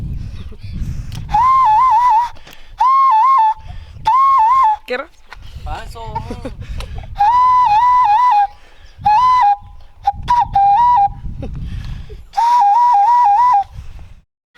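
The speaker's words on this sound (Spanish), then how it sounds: "un silbido que usamos para pastorear los chivos" A person whistles a repeated, warbling goat-herding call in loud bursts separated by short pauses, with brief talking in between.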